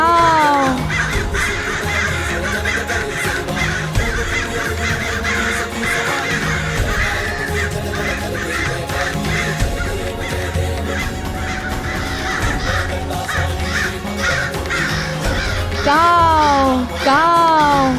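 Crow cawing, apparently voiced in imitation, over continuous dramatic music in a Hindu mythological drama, with repeated rising and falling caws grouped near the end.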